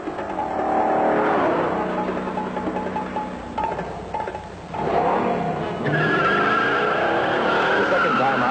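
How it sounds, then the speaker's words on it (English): A 1968 Hurst Olds 455 launches hard at a track, its engine roaring loud and close while the tires squeal. The motor surges, dips briefly, then climbs again with a rising whine. "when we blasted it, the car roared out of the hole"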